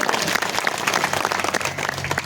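Dense, steady applause from an audience at an Akhand Harinam Saptah devotional gathering, a continuous loud patter of many hands clapping for the full length without pause.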